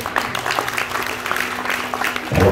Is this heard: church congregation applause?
yes